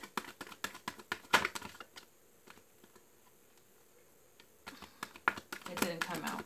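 Tarot cards being shuffled, crisp rapid riffling clicks in two close bursts separated by a quiet pause, with no voice over them.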